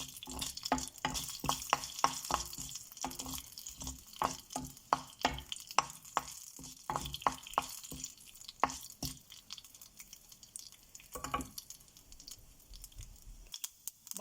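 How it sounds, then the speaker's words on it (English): Cumin, urad dal and mustard seeds frying in hot oil for ridge gourd pachadi, a steady close crackle of rapid sharp pops and sizzling that thins out toward the end, with no talking. "we will add our cumin, urid and mustard seeds in it"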